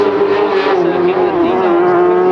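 A rallycross buggy racing at Silverstone gives a loud, steady engine drone with a sustained tone throughout, while a commentator talks over it.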